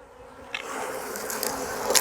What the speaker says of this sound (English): The bees are going to be rowdy, and I get it.